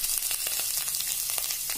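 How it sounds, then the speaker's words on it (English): Mustard seeds and ginger sizzle and crackle steadily in hot oil, a dense close frying hiss with scattered seed pops, no voices. "Now in the same oil I will add 1/2 teaspoon of mustard seeds."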